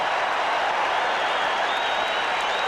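Broadband crowd noise at a 1978 Boston Celtics home game against the Buffalo Braves, steady sustained applause and cheering filling the arena for player Kermit Washington, dense and continuous throughout with no clear individual claps standing out.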